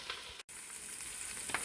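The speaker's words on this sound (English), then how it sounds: "the sizzling away of the curry paste" Curry paste sizzles and fries in a hot pan with sesame oil, a steady close-up crackle with a brief dropout and a few louder spits near the end.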